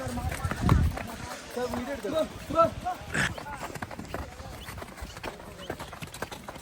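Horse hooves clip-clop on a muddy path in a snowy hill setting, a few close, irregular steps under lively chatter from nearby people.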